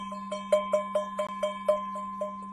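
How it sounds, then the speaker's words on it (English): Someone strikes a kitchen pan about ten times in a quick, even rhythm, and each hit gives a soft metallic ping. A steady ringing tone hangs underneath, and the hits sound faint and close. "I found this pan in my pantry that actually makes a really beautiful sound."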